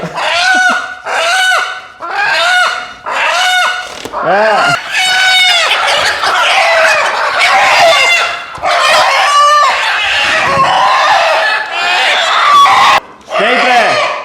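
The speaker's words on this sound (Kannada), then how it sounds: "ಹೌದು ನಾಟಿ ಕೋಳಿ ಸೌಂಡೇ ಕದರೋದು" Native country roosters crow loudly and repeatedly nearby, long rising-and-falling calls overlapping one another, with clucking from other fowl mixed in.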